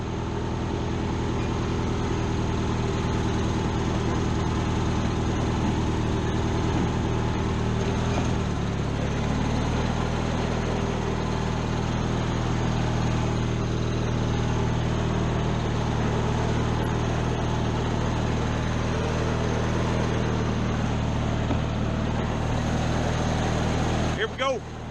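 A homemade desert tractor engine runs steadily and loudly up close for the whole stretch, a continuous rumbling drone that drops in pitch partway through and then carries on evenly.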